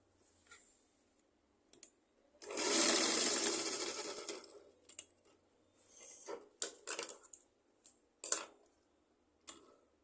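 A sewing machine runs a steady stitching burst of about two seconds while sewing a skirt piece, followed by several short clicking bursts as the fabric is adjusted. No one speaks.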